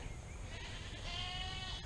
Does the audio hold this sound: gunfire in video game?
no